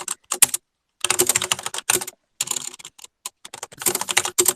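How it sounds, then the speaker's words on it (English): Fast, forceful typing clatters on a mechanical computer keyboard up close, with loud bursts of clicking keys separated by short silent pauses. "You are an intense typer."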